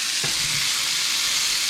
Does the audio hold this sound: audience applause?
no